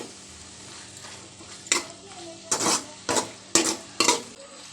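A spoon stirs chicken uppukari curry in a pot after turmeric powder goes in, with a low sizzle underneath and five loud, close scraping strokes in an irregular rhythm, no talking.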